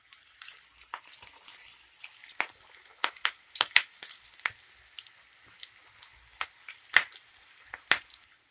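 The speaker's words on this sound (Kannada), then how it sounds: "ಎಣ್ಣೆ ಬಿಸಿಯಾಗಿದೆ. ಈಗ ಪಕೋಡ ಬಿಡ್ತಾ ಇದ್ದೀನಿ." Drumstick leaves pakoda dropped into hot oil for deep frying, a steady bright sizzle broken by sharp crackles and pops spread across the whole clip, with no talking.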